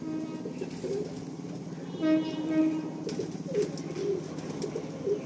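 Pigeons in a breeding loft coo softly in low, rounded bursts, several calls overlapping at a modest level against a quiet background with faint distant rumble.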